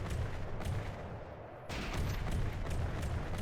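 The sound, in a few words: small APS gun firing in a video game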